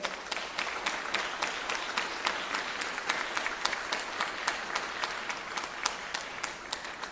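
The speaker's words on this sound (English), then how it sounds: "let us give them a big round of applause" Sustained applause from a crowd honouring graduates at a graduation ceremony after the turning of tassels, with steady dense clapping throughout and no talk over it.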